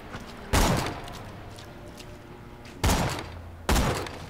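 Loud, echoing gunshots ring out in Borderlands 2, Tiny Tina's Assault on Dragon Keep: three separate heavy blasts, each followed by a short decaying tail over quiet game ambience.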